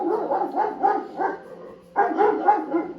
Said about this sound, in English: we could hear Spencer's greyhound, named Bullet, begin to aggressively bark at whatever was outside.